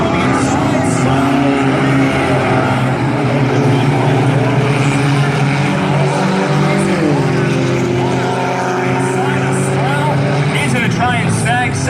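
Four-cylinder class race cars run a heat on the Valley Raceway oval, their engines a loud continuous roar with rising and falling drones as they pass, while a commentator talks throughout.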